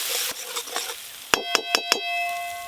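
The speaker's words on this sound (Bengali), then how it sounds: "লঙ্কা গুঁড়ো, হলুদ গুঁড়ো, লবণ, চেরা কাঁচা লঙ্কা, সামান্য একটু জল দিয়ে আর একটু ভালো করে মশলাটা কষে নেব" Spice paste with chilli powder, turmeric, salt and split green chillies frying in a pan, a steady sizzle broken by a few sharp metallic knocks of a spoon against the pan.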